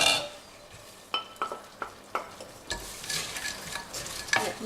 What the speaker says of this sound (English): I'm just adding those in and stirring them round.